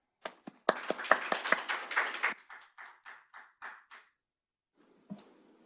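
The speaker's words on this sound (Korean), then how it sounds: "박수로 맞이하겠습니다." A few sharp claps, then a brief burst of scattered applause from a small group welcoming a speaker at an academic seminar, quickly thinning out and stopping, fairly quiet and distant.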